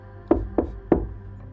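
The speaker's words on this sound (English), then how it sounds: "He knocked again." Three sharp knocks on a hotel room door, close and fairly loud, in an uneven rhythm with a short gap before the last, then a faint fourth tap trailing off in a quiet room.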